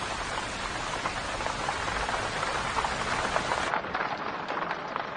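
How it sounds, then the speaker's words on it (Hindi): Steady, dense rainfall pours down close by with no voices, a continuous hiss that thins and softens slightly near the end. "अचानक से बारिश क्यों होने लगी?"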